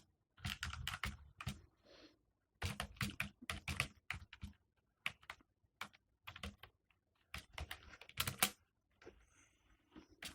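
Code is typed on a computer keyboard, with quick, close bursts of key clicks separated by short pauses. The typing is fairly quiet and there is no talking.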